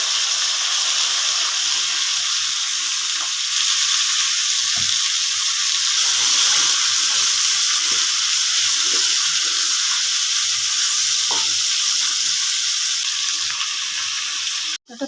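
Chopped pumpkin and pointed gourd fry in a hot pan, giving a loud, steady sizzle with soft crackles throughout, close by and without talking.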